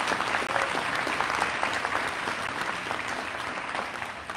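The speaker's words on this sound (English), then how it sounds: "you guys need one more round of applause for that as well" Commencement audience at a college graduation ceremony applauding, a broad, steady wash of many hands clapping from a large crowd, sustained and even.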